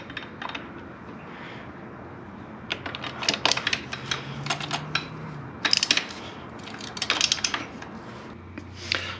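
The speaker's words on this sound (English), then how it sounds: "there's a 1/2 inch nut on the back that you're probably going to want to put a wrench on" Metal tool clinks and taps while a wrench works a 1/2 inch nut on the back of a motorcycle brake lever on a 2014 KTM 300 XC, with close, irregular clicks and scrapes in bursts.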